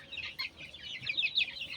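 Several hens cluck and chatter softly in quick, overlapping bursts, close by and fairly quiet.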